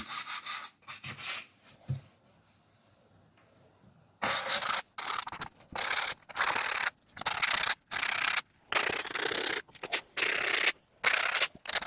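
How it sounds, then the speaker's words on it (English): Putty over nail holes in a front door is hand-sanded in loud, close bursts of rhythmic rasping strokes separated by short pauses, after a few quieter knocks at the start. "I'm just about to sand all of the putty that I've put on the nail holes"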